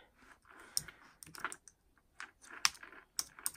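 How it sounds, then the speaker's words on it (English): Quiet, uneven clicks of a computer keyboard as someone types slowly with one hand, with short bursts of keystrokes separated by pauses. "I'm typing a little slow."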